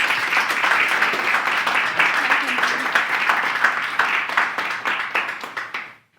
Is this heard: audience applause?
yes